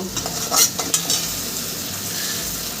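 Spices with salt and turmeric sauté in a pan for a light katla fish curry. A soft, steady sizzle runs under a few brief clinks and scrapes of a spoon near the start.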